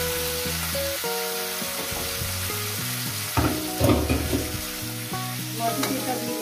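Fish oil added to tempering spices frying in a pan, a close, steady sizzle with bursts of crackling and stirring clatter, no talk.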